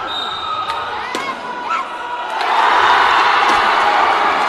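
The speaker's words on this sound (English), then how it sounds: "the crowd goes wild, but foul call before the shot" Crowd at a men's division basketball final swells into loud sustained cheering after a few sharp ball bounces and squeaks, with an announcer talking over the arena noise.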